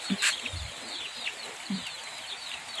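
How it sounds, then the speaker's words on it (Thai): Chickens cluck in short bursts outdoors amid rain, several close clucks and a few softer calls scattered over a light steady patter. "ไก่"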